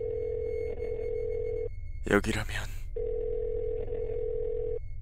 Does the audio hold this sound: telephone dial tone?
yes